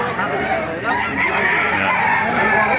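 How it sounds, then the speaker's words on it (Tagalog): Several roosters and chickens cluck and crow close by in a dense, overlapping chorus at a market in Baliuag, Philippines, with a voice faintly in the background. "Sisay natin mga manok dito sa Baliwag para makita nyo."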